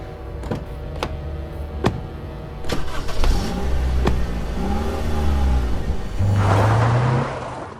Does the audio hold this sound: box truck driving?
yes